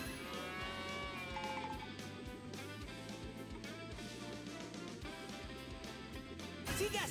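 A cow moos in a PAW Patrol mobile game over upbeat cartoonish game music, the lowing blended into a busy, steady musical backdrop.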